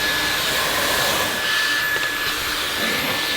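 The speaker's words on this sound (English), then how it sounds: "I get mad when someone tries to vacuum because I enjoy vacuuming" A Dyson cordless vacuum cleaner runs close by with a loud, steady high-pitched whine and airy roar, holding constant for the whole stretch with no talking.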